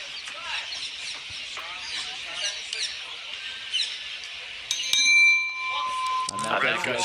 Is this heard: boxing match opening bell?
yes